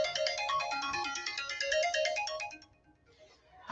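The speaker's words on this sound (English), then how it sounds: "Let me see who's calling me here." A phone ringtone plays for an incoming call, a bright repeating melodic tone that carries steadily for a few seconds and then stops, heard alone at moderate volume.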